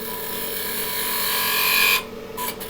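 A spindle gouge cuts into wood spinning on a lathe, giving a loud, continuous hissing, whirring scrape close by that stops abruptly after two seconds, leaving the softer hum of the machine.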